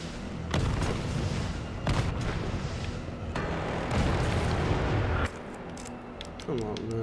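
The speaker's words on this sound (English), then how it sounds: "Rocket launcher? Really?" A rocket launcher fires in the Resident Evil 3 Remake video game: a series of heavy booming blasts, each with a rumbling tail, repeat every second or two amid dense game noise.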